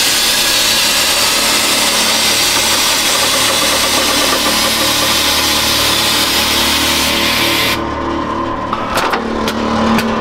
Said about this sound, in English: Sorry for the compressor